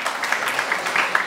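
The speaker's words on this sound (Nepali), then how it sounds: "उहाँको लागि एकचोटि जोरदार ताली हजुर" Brief, light applause from an audience at a Teej women's programme in Nepal: a second or so of scattered clapping, fairly faint and slightly distant.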